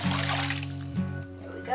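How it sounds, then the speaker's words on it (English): About three cups of water pour into a pot of beef stew, making a short, close splashing rush that fades quickly. "I'm just gonna add a little bit of water. 3 cups of water."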